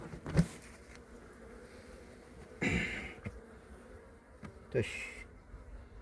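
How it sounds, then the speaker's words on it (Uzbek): Honey bees buzz around an open hive as it is prepared for winter, a continuous close, quiet drone with individual bees swelling louder as they pass near, and a brief spoken word in the middle. "Endi arilar hozir garang bo'lgan payti."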